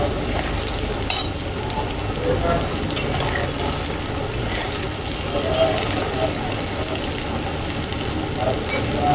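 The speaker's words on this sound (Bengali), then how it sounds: "ভালো করে ভেজে নিয়েছি আর ঠিক এরকম হয়েছে ভাজা" Pieces of flour dough fry in hot oil with a continuous bubbling sizzle, fairly close, and a few light clinks of a utensil against the pan.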